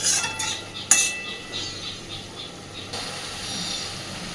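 Spice masala being sautéed and stirred in hot oil for a Bengali egg curry, with soft repeated scraping and clinking of a spoon in the pan, one sharper clink near the start, over a faint steady hiss.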